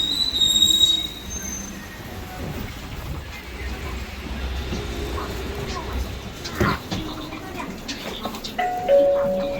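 A city bus arriving at a stop, with rumbling engine, squealing brakes and a chime, while people talk nearby.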